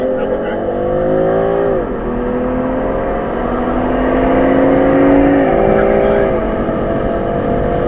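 Two cars, a 2024 Audi RS3 and a BMW M340i xDrive, accelerate hard side by side in a roll race, their engines rising in pitch with gear-shift drops, loud and steady throughout under faint road rumble.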